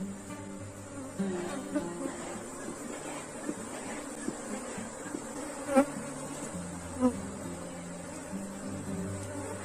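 Honey bees buzz steadily around an open hive during an inspection, a continuous droning swarm with a few louder passes as bees fly close by, no talking.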